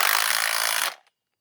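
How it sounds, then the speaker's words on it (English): A power driver with a 1/2 inch deep socket whirs loudly and steadily for almost a second, tightening a bolt on a DIY cucumber trellis, then cuts off abruptly into silence. "Using a 1/2 inch deep socket to tighten that."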